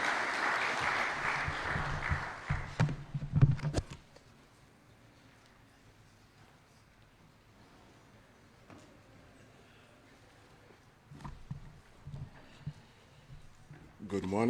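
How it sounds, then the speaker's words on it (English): An audience applauds loudly at a consultative workshop on a national economic recovery plan. The clapping lasts a few seconds, then dies away into a quiet room where someone speaks faintly. "Let's give him a big round of applause."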